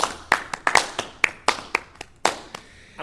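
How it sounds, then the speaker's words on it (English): Slow, sparse hand clapping by one or a few people, about a dozen crisp, separate claps at an uneven rhythm, close and dry in a small room. "I'm clapping, ironically."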